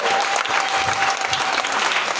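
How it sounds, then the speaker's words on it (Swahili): A church congregation claps steadily and densely for Jesus during a Swahili worship service, the applause continuous and close throughout with a faint sustained tone beneath. "pigia Yesu makofi mazuri na pele"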